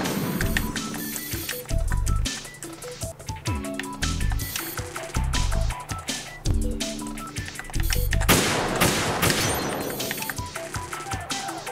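Gunshots in the video game Metal Gear Solid 2 HD, a VR weapon-mode mission: loud sharp shots fired singly and in short bursts with gaps between, alongside game effects and a crashing burst near the end.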